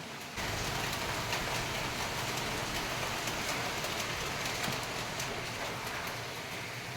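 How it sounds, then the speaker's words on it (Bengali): Heavy pouring rain outside, a dense, steady hiss of downpour that starts abruptly after a brief moment and then holds evenly at moderate loudness, with no voices. "বাইরে তো মুষলধারায় বৃষ্টি হচ্ছে"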